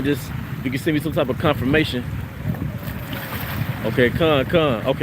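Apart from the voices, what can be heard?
wind blowing outdoors near water, wind noise on microphone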